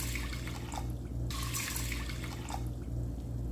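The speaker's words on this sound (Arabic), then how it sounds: "حط لتر مي." Water poured from a tap into a pot of brown lentils for a lentil and vegetable soup, a faint steady splashing stream with a brief shift in tone midway, heard alone.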